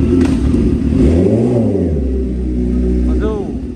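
A Suzuki GSX-R 750 sport motorcycle revs up close and loud, the engine pitch climbing and falling in a sweeping arc before settling into a steady idle, with someone talking over it.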